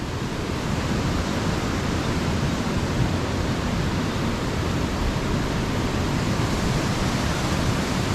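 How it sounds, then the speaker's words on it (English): Steady, loud roar of a waterfall in the Grampians, a continuous broadband rush of falling water filling the whole stretch with no talk over it. "No grab rails, and that's the waterfall."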